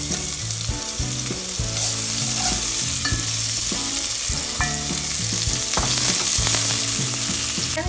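Garlic and onion sauté in a pan over medium heat, a steady close sizzle overlaid with repeated scraping and clinking of a spatula stirring the pan.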